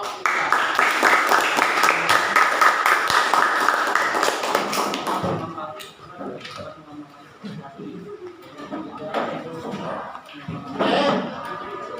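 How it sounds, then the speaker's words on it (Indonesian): Group applause breaks out in a classroom after a class presentation, a dense burst of many hands clapping for about five seconds before fading into scattered taps, shuffling and murmuring voices. "Beri tepuk tangan kelompok"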